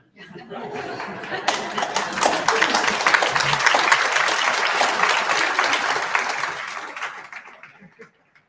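Audience at a medical school white coat ceremony breaks into applause mixed with scattered laughter, a steady crowd clapping swell rising and then tapering off over several seconds.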